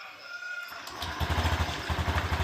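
A 2020 Honda Beat scooter engine starts up after a reset and settles into a steady, close idle with a low, even pulsing throb.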